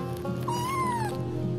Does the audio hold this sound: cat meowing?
yes